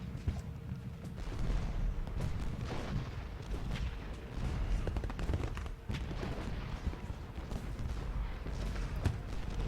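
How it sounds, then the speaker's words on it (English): Cannon fire from a Gettysburg battlefield in the video game Ultimate General: Gettysburg, a continuous rumbling barrage of distant booms and crackling volleys at moderate volume with no clear gaps. "all this artillery is now shooting at all his guys"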